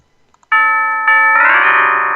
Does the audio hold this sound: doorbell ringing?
yes